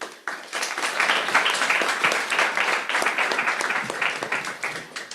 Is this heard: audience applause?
yes